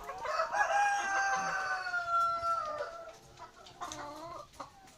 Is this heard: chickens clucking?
yes